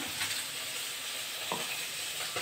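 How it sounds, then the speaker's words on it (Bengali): Fish frying in a pan for a Bengali dish with bas leaves and murala fish, a steady, fairly quiet sizzle with a couple of brief stirring sounds, no voices. "এদিকে মাছটা ভাজা হতে থাকুক"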